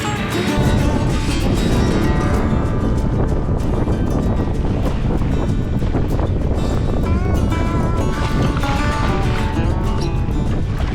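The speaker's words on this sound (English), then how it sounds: "So this wind is pretty strong." Strong wind blasting over a rough lake during kayaking on the Myall Lakes, a loud, constant roar of gusts buffeting the microphone that dominates the whole stretch, with no clear voices.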